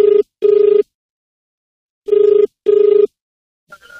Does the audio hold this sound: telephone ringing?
yes